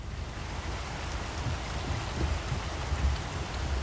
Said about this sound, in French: vu qu'il pleut énormément